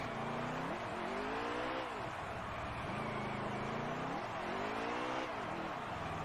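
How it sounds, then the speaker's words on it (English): A race car does a burnout at Talladega in the NASCAR Heat 3 video game, its engine revving in repeated rising and falling sweeps, loud and close, with spinning tire noise beneath. "we are burning it out here in Talladega"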